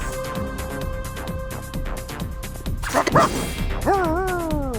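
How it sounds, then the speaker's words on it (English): A puppy in the video game Reverse 1999 barks and yips amid game sounds: rhythmic clicking music, a crash midway, then a few short, high, rising yelps near the end, fairly loud. "The puppy agreed with your decision."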